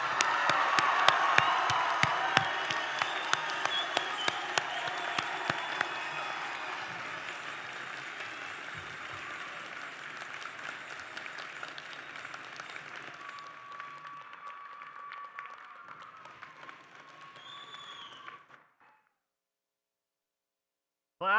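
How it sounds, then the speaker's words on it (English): Graduation ceremony audience applauds the graduating honors students, dense clapping and some cheers that gradually thin out and fade to near silence toward the end. "Give the students a round of applause on a job well done."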